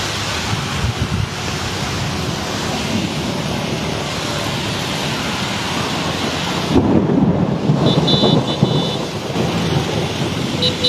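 Steady heavy rain from early monsoon showers pours across the whole stretch, with a rumble of thunder swelling partway through, loud and close.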